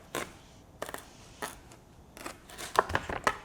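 A knife trims a piece of produce on a board so it can sit flat, giving a series of short, faint crisp cuts and snips with irregular gaps, close and quiet with no talking.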